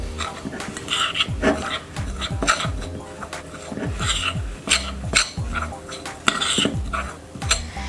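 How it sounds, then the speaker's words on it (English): A spoon clinks and scrapes in a bowl as matcha is stirred into almond flour, with uneven bursts of tapping and scraping and some faint talk in the background. "I'm gonna mix the matcha with the almond flour a little bit before I fold it into the tahini mixture"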